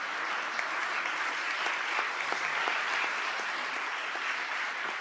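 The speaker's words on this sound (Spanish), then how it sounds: "Yo creo que démosle un aplauso" Steady, dense applause from a seminar audience, many hands clapping together in a continuous wash, even in loudness from start to finish.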